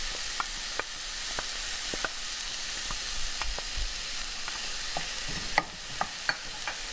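Onions and garlic fry in a pan with a steady soft sizzle, broken by scattered sharp clicks and scrapes as a utensil stirs them, close and without talk.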